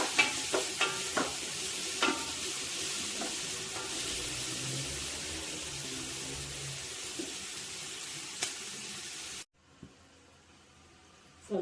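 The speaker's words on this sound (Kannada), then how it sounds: "ಹಾಕಿ ಇದು ಕೆಂಪಾಗುವ ತನಕ ಹುರಿಬೇಕು" Masala for a mutton curry sizzles and fries steadily in a pan, with a few stirring scrapes and knocks over the hiss before it cuts out abruptly near the end.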